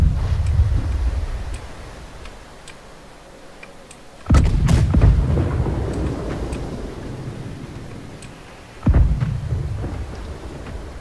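Two heavy booming cannon blasts in the video game Blackwake, roughly four seconds apart, each followed by a long rumbling decay over a steady low background rumble.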